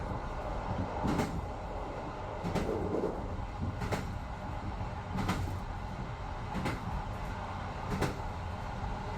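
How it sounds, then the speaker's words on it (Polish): Train wheels clatter over jointed rails in a regular rhythm of sharp double knocks, heard from inside a carriage on line 147 between Gliwice and Bytom, Poland, over a constant rumbling hum. "Stukot kół na torach łączonych łączeniami łupkowymi."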